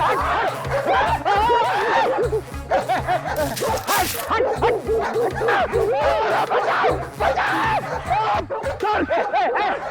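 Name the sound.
dog barking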